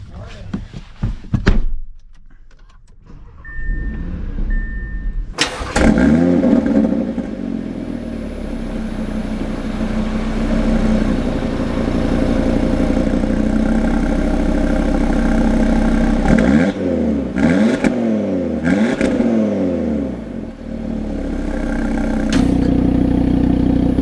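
Audi RS3 with a door thud, then the engine firing up into a loud steady idle, with several sharp revs rising and falling in pitch over the rumble.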